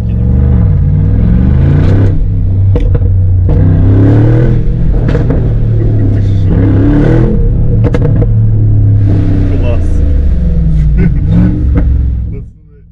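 The engine of a 2022 Mercedes G-Class G63 4x4² conversion revs and growls loudly throughout, rising and falling with throttle, with someone talking excitedly over it.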